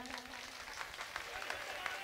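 An audience at a religious storytelling gathering bursts into applause, a soft, continuous patter of many hands with a few sharper claps, fairly faint and even across its short length.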